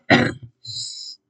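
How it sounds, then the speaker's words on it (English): A single rough cough, short and close, followed by a brief raspy throat-clearing exhale. "still got this darn cough"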